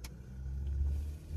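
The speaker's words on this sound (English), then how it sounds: "So we're in the car." Low, steady rumble inside a moving car, quiet road and engine drone with a brief click at the start, no talking.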